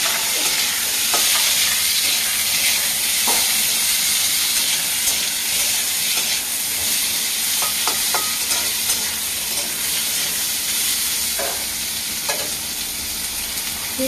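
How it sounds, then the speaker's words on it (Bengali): Chopped cucumber frying in a pan with dried red chilli and mustard seed tempering gives a steady, close, loud sizzle, with scattered stirring clicks and scrapes throughout and no talking. "শসাটা কুচনো দিয়ে দেবো"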